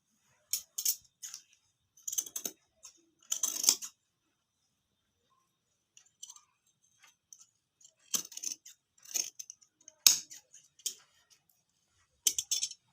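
Scissors snip through cloth while a sleeve is being cut out, giving short bursts of crisp, close cuts in small clusters separated by quiet pauses.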